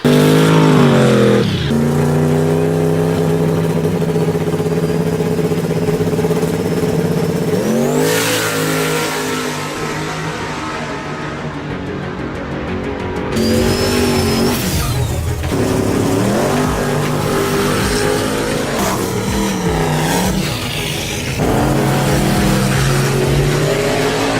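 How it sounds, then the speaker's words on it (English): A 7-second quarter-mile drag race car roars loud and close, its engine revving up in rising sweeps through gear changes, briefly easing off midway before screaming back up at full throttle. "My boy Streetcar Joe getting on the list, changing the gears out on that 1/8 mile Gretsch car that he has, running a 7-second quarter-mile pass"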